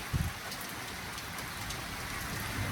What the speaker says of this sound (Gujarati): કેવો છે વરસાદ ભાઈ બહુ સારો